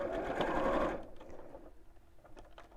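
A sewing machine stitching fabric around a curve for a festive penguin, a fast, close mechanical whir for about a second, then slowing to lighter intermittent clicks and taps.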